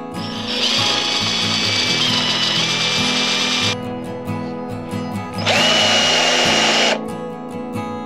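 A power drill whines loudly in two bursts with a short pause between, its motor pitch shifting slightly as it bites into material while building a desk for a Suzuki Jimny.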